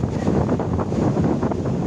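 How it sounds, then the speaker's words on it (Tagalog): Strong wind on a beach buffets the microphone in a continuous loud roar, dense and unbroken for the whole stretch, with no voices. "Lakas ng hangin."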